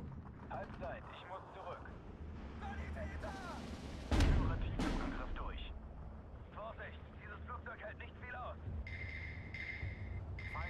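Tank and artillery gunfire from the Steel Division 2 video game, with a heavy booming blast around the middle standing out from scattered shots and mechanical clatter, all running under continuous talk.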